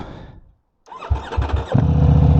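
A 2023 Ducati V4 Diavel motorcycle engine cranks and fires up after a brief silence, catching with uneven low pulses and then settling into a loud, steady idle close by.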